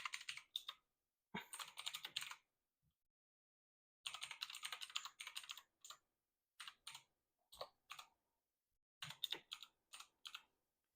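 Fingers typing on a computer keyboard while filling in an online visa application form, close bursts of rapid clicking keystrokes separated by short silent pauses, with no talking.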